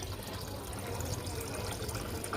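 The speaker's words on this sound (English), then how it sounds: "Always add 550 mils of water." Water pours steadily into a coffee-flavored shake, a continuous close liquid rush and trickle without pause.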